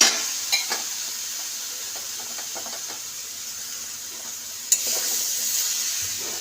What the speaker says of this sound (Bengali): সয়াবিনে দিয়ে এটাকে কষবো। তার সাথে টমেটোটা দিয়ে দেবো, কাঁচা টমেটোটা।